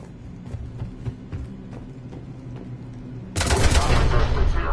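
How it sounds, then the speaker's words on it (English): Cannon fire in the Mass Effect 3 video game: a run of sharp repeated blasts, then a sudden sustained loud roaring barrage near the end. "The cannon fire is clearing the way."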